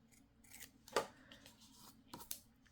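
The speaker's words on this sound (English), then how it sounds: "We'll just cut this little piece off like here and cut this little piece." Scissors snip a small piece of paper for a faux postcard, one loud crisp cut followed by a couple of softer snips, close and quiet otherwise; no talk.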